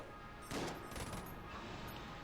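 A backup gun firing shadow bullets in the video game Enter the Gungeon, a quick flurry of overlapping shots blurring into a dense crackling rush that sits over steady game noise.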